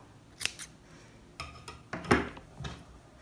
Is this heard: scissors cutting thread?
yes